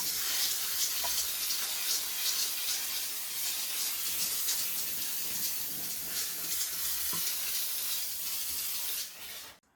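A steam cleaner hisses steadily over the top of a toilet lid, a continuous close, airy spray that runs for several seconds before stopping.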